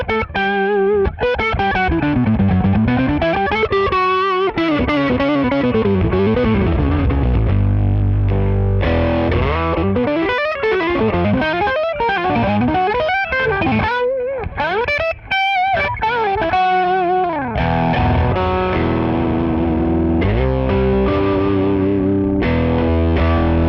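KHDK Annihilator octaver guitar pedal with its compressor engaged, producing a loud, continuous distorted guitar passage with sweeping phase-like modulation and shifting notes, no talking.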